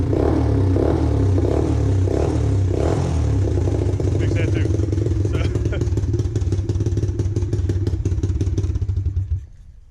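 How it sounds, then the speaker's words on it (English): A small pit bike engine, recently fixed after a cleaned carburetor and sticking throttle, idling and running with a loud, close, rapid putter and mechanical clatter, steady for most of the clip before cutting off at the end. "So we got the little pit bike running."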